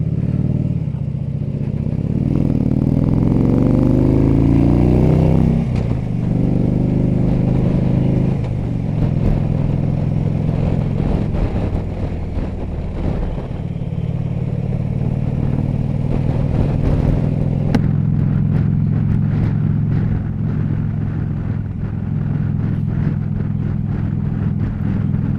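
A Harley Davidson Electra Glide motorcycle rolls along a very bumpy, blowy coastal road, its engine droning steadily and close, rising in pitch at first, under constant wind buffeting and faint clatter.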